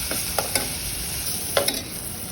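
Chopped onion, green chili and salt fry in ghee in a wok, giving a constant close sizzle broken by a few light clicks from stirring.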